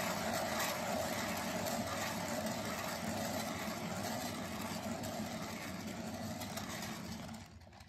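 A paint spinner whirling a small acrylic canvas, giving a steady, fairly loud motorized whir with a constant drone that holds for several seconds before dropping away at the end.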